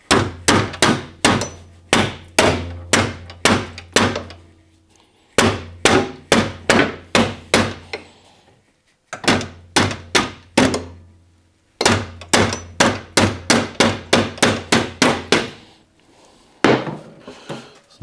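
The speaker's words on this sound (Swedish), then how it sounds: "Här också får han ta en hammare och försöka slå tillbaka." Repeated sharp hammer blows on a bent metal part during a radiator replacement on a Volvo 945, fired in quick bursts of several strikes with short pauses between groups, loud and close.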